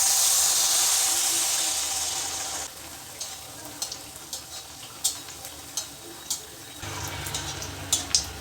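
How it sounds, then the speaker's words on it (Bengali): Malpua pancakes deep-frying in hot oil, a steady bubbling hiss that thins out midway into softer crackling with scattered pops and small splashes, close and alone without talk. "ঠিক এইভাবেই বাকি সব মালপোয়াগুলো আমি ভেজে নেব।"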